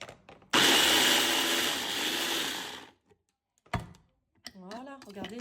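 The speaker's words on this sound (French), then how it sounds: "je vous montre ce petit mixeur là que j'avais acheté chez Action" A small electric mixer bought from Action chops frozen parsley in a loud, whirring burst of about two and a half seconds that then stops, followed by a few clicks and someone speaking.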